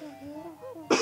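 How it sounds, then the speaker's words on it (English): One short, sharp cough bursts out at the very end, following a moment of low murmuring tones. "I'm holding back a cough, so give me a second."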